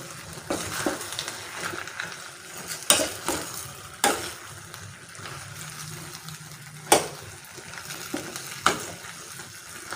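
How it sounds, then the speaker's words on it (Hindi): Chicken macaroni is stirred in a sizzling pan, with a spoon scraping and clacking against the metal in irregular strokes over a soft, steady frying hiss, close up with no talking. "अब इसमें मैकरोनी शामिल करते हैं। और इसको अच्छी तरह मिक्स करेंगे।"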